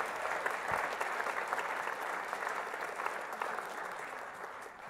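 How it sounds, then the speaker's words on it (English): Steady applause from a large audience at a school band winter concert, dense and even throughout with no breaks, a crowd clapping together at moderate distance. "So please, another round of applause for our full admin and Board of Education here at LP."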